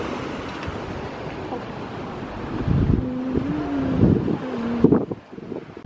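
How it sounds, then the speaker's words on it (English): Strong wind roars steadily across a microphone on a cold North Sea beach, a continuous broadband rush with louder gusts building toward the end, with no talk over it. "it's pretty cold, like it's windy as hell"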